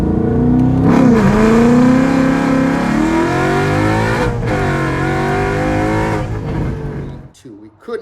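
A car with a Tremec gearbox launches hard from a standstill on rubbered pavement with cold tires, its loud engine note rising sharply through a 0-60 run, then fading near the end.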